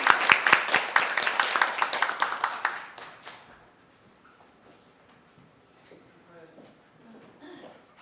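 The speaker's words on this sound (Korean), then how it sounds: "잘 다녀오라고 우리 함께 박수해 주시죠." A church congregation claps together at a Sunday worship service, a burst of rapid, fairly near handclaps for about three seconds that stops abruptly, leaving quiet room sounds and faint shuffling.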